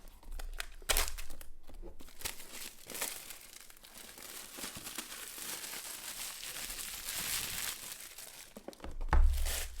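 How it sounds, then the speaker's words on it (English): The tear tab on an Apple iPad Air 5 box is pulled, producing a long, close ripping and crinkling strip of sound that builds steadily, ending in a louder thud. "Let's pull that tab."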